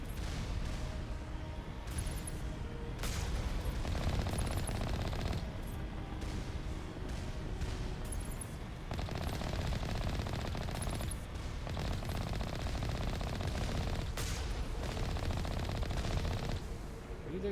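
Heavy turret gunfire in the game Mass Effect, rapid automatic bursts and booming impacts repeating throughout in a dense, chaotic firefight.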